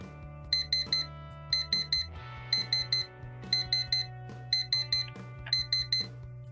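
A beeping alarm clock rings in the video game Actual Sunlight, rapid bursts of four shrill beeps repeating in a steady pattern over a low droning music bed, loud and alone.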